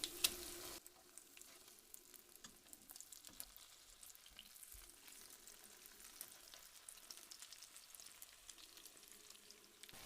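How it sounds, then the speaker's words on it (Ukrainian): Zucchini frying over medium heat in a pan, a quiet continuous sizzle with small crackles, preceded by a brief louder clatter at the start. "Смажимо кабачки з двох сторін до готовності на середньому вогні."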